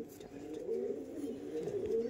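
Andhra pigeons at a sale coo close by, soft rolling murmurs that swell and fade across the stretch at low overall loudness.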